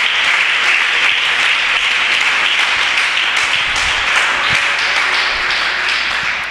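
A church congregation applauds during an afternoon worship service, the clapping dense, steady and loud throughout, a continuous wash of many hands with no voices standing out.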